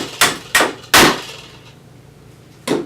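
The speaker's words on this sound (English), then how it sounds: "put it in the bottom of the apple, and just give it some taps" A flathead screwdriver is tapped into the bottom of an apple: three sharp, close knocks in quick succession, then a pause and one more tap at the end.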